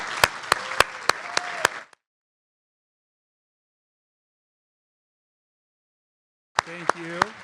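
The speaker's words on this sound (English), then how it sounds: "so we can give you a round of applause" Applause for faculty and staff at an award ceremony, a short burst of clapping that cuts out, then resumes briefly after a silent gap, with a voice over the clapping.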